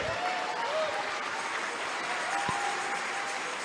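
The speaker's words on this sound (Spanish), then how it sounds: "Dale una ofrenda de palmas al Rey." A church congregation applauds in a dense, sustained wash of clapping, steady and loud throughout, with a faint tonal line drifting above and a single thump near the middle.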